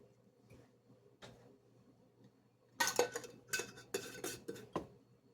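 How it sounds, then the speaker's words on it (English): A metal lid being screwed tight onto a glass jar of homemade strawberry vinegar, giving a quick run of close metallic scrapes and clinks after a quieter start. "So it's just basically getting that lid on there"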